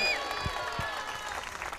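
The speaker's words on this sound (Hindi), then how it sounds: "कोई जोर से ताली बजा के प्रभु को धन्यवाद दे।" A church congregation claps loudly in thanksgiving during a sermon, a dense, steady patter of many hands with music tones ringing underneath.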